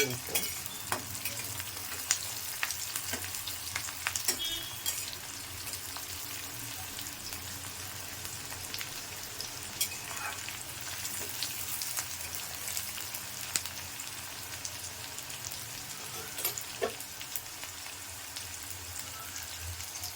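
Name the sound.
onions and garlic frying for tamarind curry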